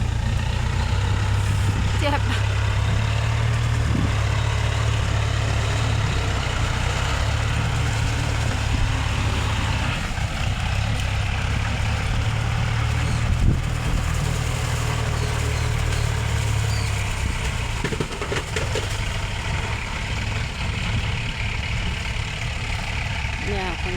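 A tractor engine idles steadily and close by for the whole stretch, a constant low rumble with someone talking over it.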